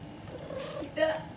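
Soft purring from a pet cat in a home with thirteen cats: a quiet, continuous low rumble, close by, with a voice speaking faintly nearby.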